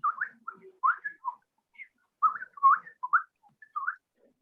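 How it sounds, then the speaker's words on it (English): A bird sings alone in a quiet setting, sending out short, clear whistled phrases in two bursts separated by a brief pause, close and bright against silence. "A bird began to sing."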